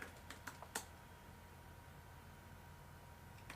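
A few quick keyboard taps at the start, then near-silence with steady low hum; faint and close.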